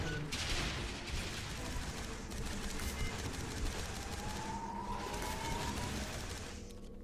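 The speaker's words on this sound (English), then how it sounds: "deploy a barrage of 5 missiles" A sci-fi video game fires a barrage of five missiles, a dense, loud rumbling volley of blasts and whooshes that rolls on continuously and fades slightly at the end.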